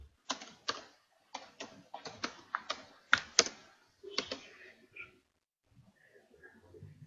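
Computer keyboard typing in a burst of quick, clattering keystrokes, close and fairly loud, that stops partway through, leaving faint soft sounds.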